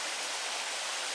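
Water from a pretty little creek near Blowing Rock rushes with a steady, even hiss, close and continuous and without any voices.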